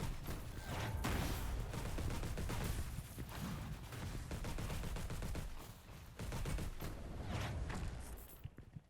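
Turrets fire steadily at enemies in an FPS roguelike game, a dense, continuous rattle of rapid gunfire with heavy thumps throughout, loud and close, with no speech.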